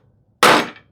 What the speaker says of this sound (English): the clamp pressure combined with a hammer tap, like, really helps.